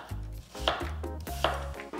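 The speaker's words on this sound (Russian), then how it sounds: "Теперь каждую из частей нарезаем слайсами." Thin apple slices being cut with a knife on a board for a skillet apple charlotte, a few firm, close knocks of the blade coming through the fruit, each followed by a short scrape, with no talking.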